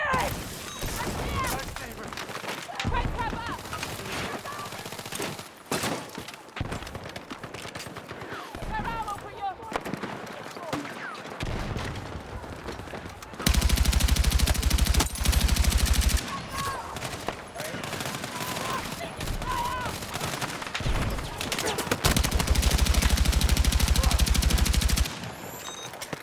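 Light machine gun fire in a video game, long sustained bursts of rapid automatic shots with booming impacts, loud and dense, mixed with the chaos of battle and people talking over it.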